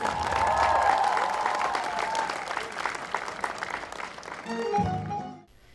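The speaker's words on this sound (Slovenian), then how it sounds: "Aplavz." Outdoor crowd applause at a street graduates' quadrille dance parade rises loudly over music at first, then continues more thinly before fading out at the end.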